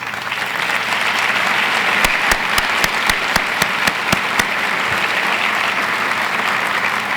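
Sustained applause from a university audience at a State of the University event, steady and full throughout with a run of sharp, evenly spaced claps or knocks standing out near the middle.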